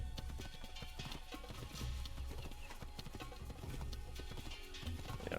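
Horse hooves clip-clop steadily in Assassin's Creed as Altair rides a stolen horse, a continuous rhythmic trot layered over busy game ambience throughout.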